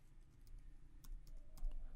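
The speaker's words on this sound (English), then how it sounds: "So I just need to type in" Java code typed on a computer keyboard, a scattering of light, quiet key clicks at an uneven pace with no voice.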